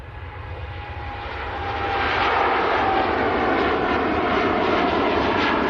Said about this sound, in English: Heading out to Cancun, that TUI Dreamliner.